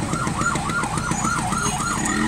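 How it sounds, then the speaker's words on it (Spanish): An ambulance siren wails in a rapid rising-and-falling pattern on a street, loud and close, over the rumble of passing traffic. "6 ambulancias peleando por un herido, ninguna lo recoge, todos peleando"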